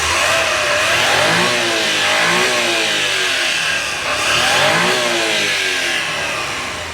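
A minivan's turbocharged engine revs up and down in several loud rising and falling sweeps, close by, with no talking.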